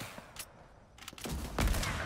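Several gunshot-like bursts from the video game Fortnite, with a louder, heavier blast near the end over a steady background rumble.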